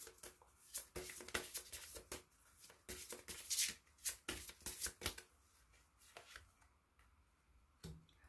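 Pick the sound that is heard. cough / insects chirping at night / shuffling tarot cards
shuffling tarot cards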